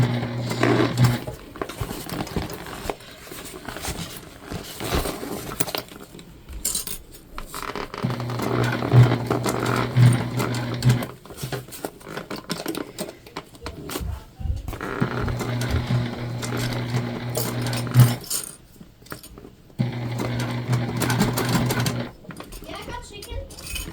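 A sewing machine stitches along the lining seam of a Briana bag in bursts of steady mechanical whirring, pausing between runs with fabric rustling and handling noises.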